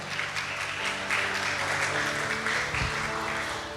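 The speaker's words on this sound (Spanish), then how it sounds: "Damos un fuerte aplauso al Señor" A Spanish-speaking church congregation claps for the Lord in a sustained, rustling burst of applause, with steady sustained instrumental tones ringing underneath and no talking.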